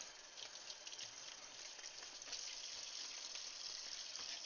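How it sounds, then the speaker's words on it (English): Cold water runs from a kitchen tap over strawberries being rinsed for a strawberry rhubarb pie, a steady close hiss of flowing, splashing water that stays even throughout, with no talking. "Cold water rinse."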